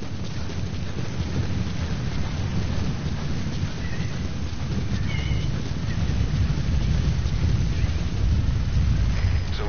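Sandstorm rolling in within a video game, a steady dense roar of wind and blowing grit holding at an even loud level throughout, with faint high whistling streaks drifting over it.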